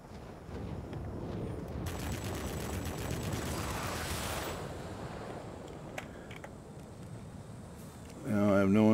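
Aircraft cannons on a prototype Me P.1101 jet fighter in a flight combat video game fire as a dense, roaring barrage that swells in the middle and fades, with a low rumble throughout.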